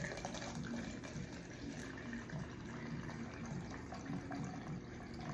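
Apple cider vinegar pours steadily into a container with no funnel, a continuous soft liquid trickle and splash running the whole time at moderate, even loudness.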